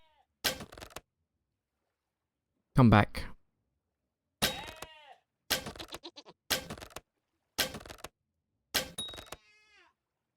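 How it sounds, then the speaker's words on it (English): Sheep bleat repeatedly in a Vintage Story game world, about six separate calls spaced every second or so, fairly close, with a brief spoken remark in between. "I think those may be sheep."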